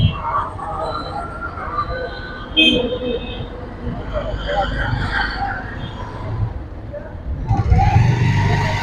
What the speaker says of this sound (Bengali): সম্ভবত ট্রেন আসছে ওই জন্য হয়তো একটু ট্রাম ট্রাম